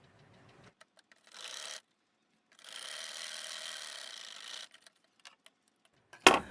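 A sewing machine stitches the side pocket of a pair of pants in two short runs, a brief buzzing burst and then a longer steady whir, separated by quiet gaps with small clicks and handling sounds.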